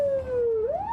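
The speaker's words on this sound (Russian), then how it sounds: "Вой сирены, большая скорость" An ambulance siren wails in one long tone that dips slowly and then climbs again, loud and near, alone with no talk.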